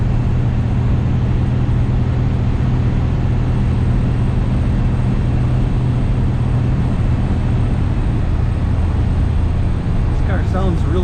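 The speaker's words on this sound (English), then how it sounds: "This car sounds really good." A 1955 Chevrolet Bel Air two-door hardtop restomod drives down the road, its engine giving a steady, loud low rumble throughout, with a short chirping sound near the end.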